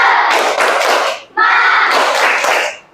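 A classroom of children stands and performs the "tepuk semangat" clapping chant, with dense rhythmic claps and shouted voices in two loud bursts separated by a brief pause.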